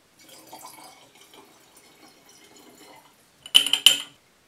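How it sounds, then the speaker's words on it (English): Dichloromethane poured into a bottle of cloudy mint distillate, a short burst of splashing liquid after a stretch of faint background noise, close and alone. "about 50 milliliters of dichloromethane is added to the bottle of cloudy distillate."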